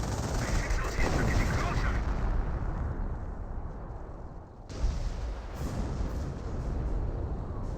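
Artillery barrage and gunfire in a Company of Heroes skirmish battle: dense, continuous rumbling blasts and crackling shots with a brief lull before the firing resumes, loud throughout.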